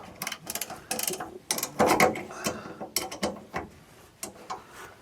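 A driveshaft hanger bearing is snugged up on a shortened driveshaft with irregular bursts of close metallic ratcheting and clicking, uneven in rhythm and moderately loud, with no talking.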